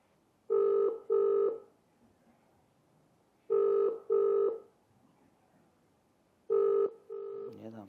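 An unanswered phone call rings out as a ringback tone: three pairs of loud, steady electronic tones separated by long silent pauses, heard alone until a voice begins at the very end.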